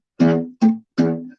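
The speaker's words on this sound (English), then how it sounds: "That's what we call pizzicato on the guitar." Three short pizzicato notes on guitar, each string plucked and then damped with the side of the hand, so every note sounds clipped and muted. They fall in a quick sequence, close and alone.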